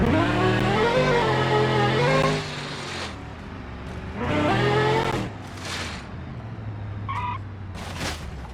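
Simulated car engine in BeamNG.drive version 0.20 alpha, revving up and easing off in two long loud bursts with quieter idling between, plus a few short chirps near the end; no talking.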